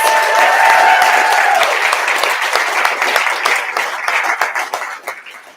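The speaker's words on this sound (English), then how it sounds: "Let's give them a huge round of applause." Loud audience applause at a TEDx conference, a thick wash of many hands clapping with a voice briefly audible at the start, gradually thinning out toward the end.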